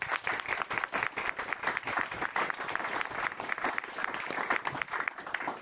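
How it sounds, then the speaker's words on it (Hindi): Steady, dense applause from a church congregation honoring God during a Hindi-Urdu sermon by an evangelist in Sharjah, loud and continuous with no talk over it. "जोरदार तालियां खुदा के लिए"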